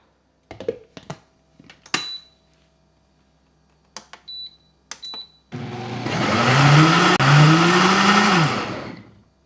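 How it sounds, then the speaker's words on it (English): A blender starts up after some scattered clicks and clatter, then runs loud and steady blending tomato soup, its motor pitch rising and falling as it churns. "you can go ahead and blend it right into your blender"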